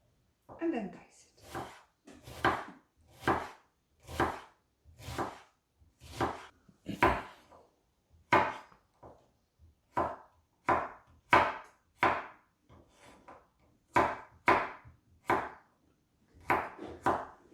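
Knife dicing onion on a cutting board in a home kitchen, a steady series of sharp, evenly spaced chops, close and clear with no talk.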